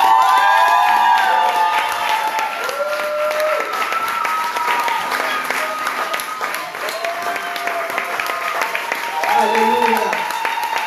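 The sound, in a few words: church congregation applauding and cheering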